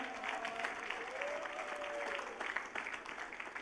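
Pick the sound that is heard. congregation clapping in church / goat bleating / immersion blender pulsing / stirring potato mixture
congregation clapping in church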